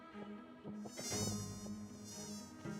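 A high, thin mosquito whine hovers close by, its pitch wavering steadily and continuously for a few seconds with no voices.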